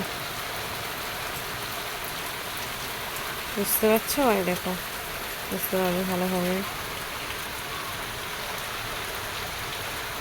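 Steady rain pours during a thunderstorm under dark clouds, a dense constant hiss filling the whole stretch, with a voice speaking briefly near the middle.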